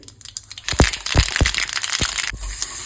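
Mustard seeds, asafoetida, turmeric and sesame seeds crackle in a hot tempering for a spiny gourd bhaji: several sharp, close pops burst over a bed of hissing oil, irregularly spaced, with no voices.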